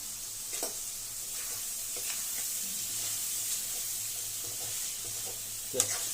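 Small chopped tomato pieces frying in a pan for chicken liver curry, a steady close sizzle with faint stirring scrapes and a sharp clink near the end.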